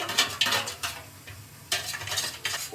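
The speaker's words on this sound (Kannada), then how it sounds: "ಚೆನ್ನಾಗಿ ಇದನ್ನು ಮಿಕ್ಸ್ ಮಾಡ್ಕೋಬೇಕು." A spoon stirs a batter of maida flour, curd and sugar for golibaje in a bowl, producing a few separate bursts of scraping and wet mixing with short pauses between.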